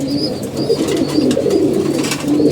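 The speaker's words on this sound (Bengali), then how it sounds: "অসুস্থ হয়েছে কবুতরটা আমরা এখানে এনে দিয়েছি" A sick pigeon coos nearby in hot weather, with soft, repeated, throaty coos in a steady rhythm and faint chirps in the background.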